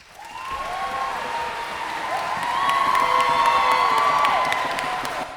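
Recorded crowd applause and cheering swell in a dense, steady wash of clapping with a few whoops and shouts, building slightly louder toward the middle before easing off.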